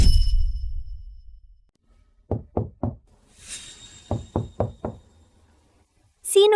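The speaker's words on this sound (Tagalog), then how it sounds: "Sino yan? Ang lakas ng katok?" Loud knocking on a door, two separate bursts of three and four sharp, evenly spaced raps with a quiet pause between them, then a brief high tone at the end.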